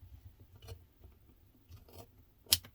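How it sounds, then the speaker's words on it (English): Scissors snip off the corners of sewn fabric for an onigiri bag, a few quiet separate cuts ending in one sharper, louder snip, close up in a quiet room. "And then just snip off corner bits."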